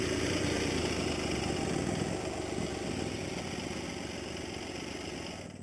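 Small motorcycle engine running steadily on a snowy Alpine barrel-trip ride near Stella Alpina, a continuous loud low hum that fades slightly toward the end, with no talk.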